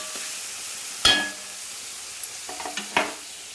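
Drumstick leaves being stirred in a frying pan, a sharp scrape of the spoon followed by softer scraping strokes over a faint steady sizzle.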